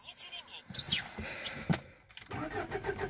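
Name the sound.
Lada Vesta car engine starting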